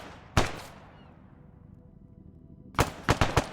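Gunfire in a military video game battle: a single loud crack with a decaying tail, then after a pause a rapid burst of several close shots.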